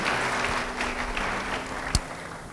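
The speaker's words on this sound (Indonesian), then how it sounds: "Yang mengerti beri tepuk tangan bagi dia." A church audience claps at a sermon, a steady wash of applause at moderate volume running the full length, with one sharp knock near the end.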